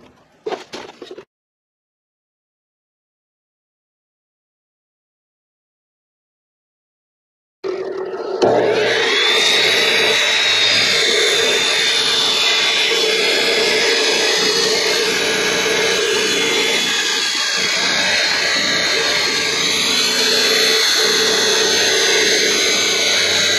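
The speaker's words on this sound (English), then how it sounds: "Now we'll take it over to the chop saw and chop that piece off." A chop saw cuts through a thick steel piece for a trailer jack repair, a loud steady high-pitched grinding whine that starts after a few seconds of silence and runs continuously to the end.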